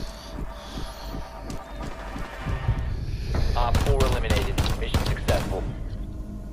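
Rapid bursts of gunfire in Rainbow Six Siege with bomb-site fighting, several sharp volleys clustered in the second half over a rumbling low bed, with no speech during the shots.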